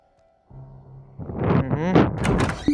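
A single door opens with a dull thunk and a creaking, resonant sweep that fades out, set in a quiet game scene.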